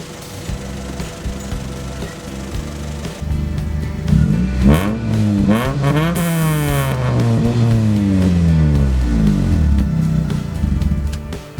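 A repaired car engine idles and revs, its tone rising and falling in smooth sweeps over a steady mechanical hum, loud and close throughout with no talking.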